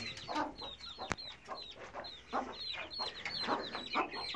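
Repeated soft clucking from a broody hen with high, thin peeping of her chicks scattered throughout, close and continuous.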